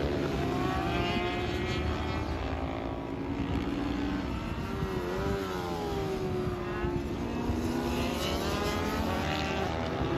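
A supermoto motorcycle engine revs and accelerates continuously during a race, its pitch rising and falling through gear changes, loud and close with steady roar throughout.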